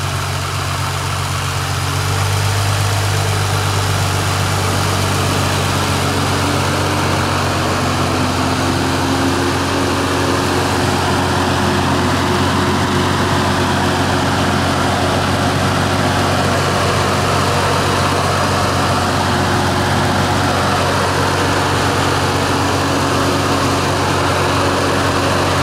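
A Nissan GT-R's 3.8 liter turbo V6 engine idles steadily and loudly for the whole stretch, a constant low rumble with a smooth, even hum and no voices.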